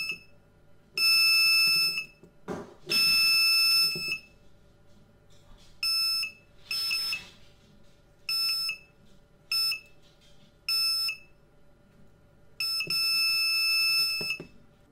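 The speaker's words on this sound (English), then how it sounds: "I've also included an alarm in this circuit, and I've kept it off until now" A shrill electronic tilt alarm buzzer from an Arduino Mega2560 circuit with a tilt ball switch sounds in repeated bursts of varying length, loud and harsh, separated by brief pauses with faint clicks and rustling.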